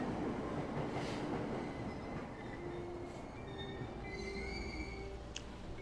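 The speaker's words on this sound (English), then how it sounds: "Time to ride the train." Train ride in Persona 5 Royal: a steady rumbling rail carriage with faint squealing wheels and soft clatter, a continuous moderate drone from start to finish, without voices.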